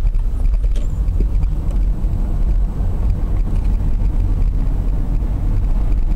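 A BMW converted to electric drive accelerates in second gear, a steady loud low rumble of road and drivetrain noise with a bumping, clattering texture and no talk.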